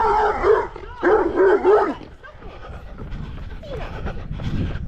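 A dog barks outdoors during a run, with several close, loud barks early on, then quieter yips and whimpers under footsteps and ambient noise.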